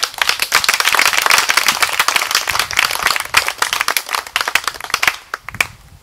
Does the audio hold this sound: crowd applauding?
yes